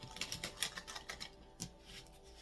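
Tarot cards shuffled by hand, a quiet run of crisp, rapid riffling flutters in short bursts, close and soft.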